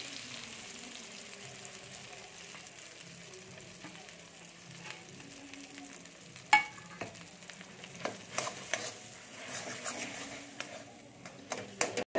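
Ground lentil paste is stirred into melted ghee in a pan, giving a soft, steady sizzle with scraping and occasional sharper clinks of the spoon against the pan.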